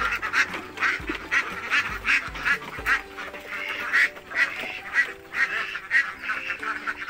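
A group of domestic ducks kept for laying quack over and over at feeding time, loud and close, with overlapping calls in an uneven rhythm and no talking.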